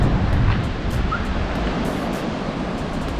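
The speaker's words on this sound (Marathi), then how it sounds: "आता तुम्ही मागे बघू शकता, हा समुद्र आहे आपल्याकडे." Sea waves at Korlai Fort on the coast near Alibag, Maharashtra, a continuous broad roar of surf mixed with wind buffeting the microphone, fairly loud and steady with no talking.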